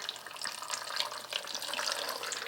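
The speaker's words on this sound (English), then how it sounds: "Now you see that I'm pouring water all over the table and everything." Water pouring from a bottle onto a table, a steady splashing hiss that runs continuously at moderate loudness, close by with no talking.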